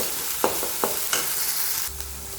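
Onions sauté with ginger garlic paste in a pan for chana masala, a close sizzle broken by three or four sharp spatula scrapes, then a brief louder hiss near the end.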